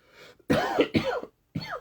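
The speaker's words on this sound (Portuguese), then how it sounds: "estou começando a tossir, tá? Meu nariz está entupindo" A person gives a quick series of short, harsh coughs, close and clear, with brief silent gaps between them.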